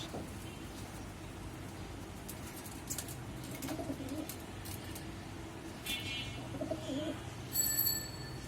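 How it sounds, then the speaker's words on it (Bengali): Soft pigeon coos come and go over a steady background hiss, with a few faint bird calls and brief rustles near the end. "এই আমাদের বাড়ির প্রথম কবুতর"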